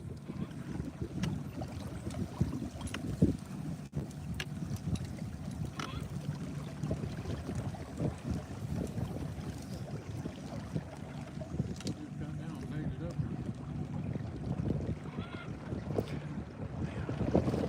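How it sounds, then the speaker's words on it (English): Gusty wind buffets the microphone in a constant low rumble, with water lapping and a fishing boat's hum beneath it; no clear talk. "It's windy, guys. It's going to get worse."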